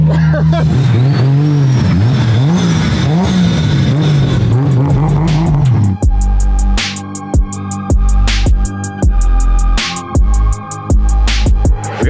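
A car driven hard around a shop, its engine revving loudly in repeated surges with sharp bursts and shifts, after a stretch of talking at the start.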